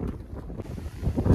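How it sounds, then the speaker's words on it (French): Strong wind buffeting the microphone outdoors on a cold day, low rumbling gusts that rise and fall over a second and a half, with no talking. "Ah, il y a un vent."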